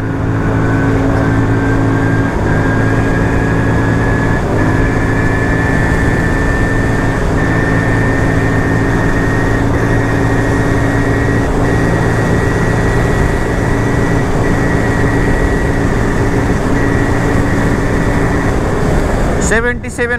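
A Crossfire motorcycle engine drones steadily at speed on a road, a loud continuous whine gradually rising in pitch as it accelerates, with wind rush throughout and a brief disturbance at the very end.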